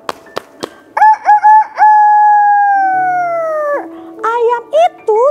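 A rooster crows in a long drawn-out cock-a-doodle-doo, loud and close, followed by shorter clucking calls, as a sound effect in a children's story.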